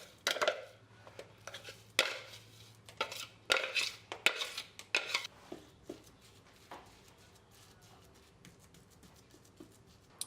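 Crust pressed and spread across the bottom of a springform pan for a raw vegan blueberry cheesecake, with soft scraping and several sharp clinks of a utensil against metal, fairly close and fading to quieter taps.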